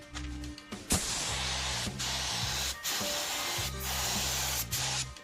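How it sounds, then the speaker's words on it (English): A paint and varnish spray gun hisses in long steady bursts over an old car's bodywork, each pass broken by short pauses and a low compressor drone underneath. "he decided to use the main spray gun, which is used for paint and varnish"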